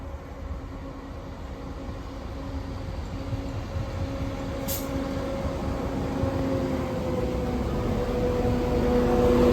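A Class 171 train drawing into Pevensey and Westham station, a steady low rumble with a humming engine tone that grows gradually louder, close by and with no voices.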